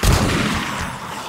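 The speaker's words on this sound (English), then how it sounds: "The shotgun is so slow." A single heavy shotgun blast in the zombie survival game 7 Days to Die, a loud booming report up front that decays into a rumbling tail.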